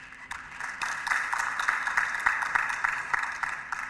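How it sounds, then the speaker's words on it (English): An audience in a conference room gives a round of applause, moderate dense clapping rising after a moment and holding steady, heard at some distance. "he deserves a round of applause from the room."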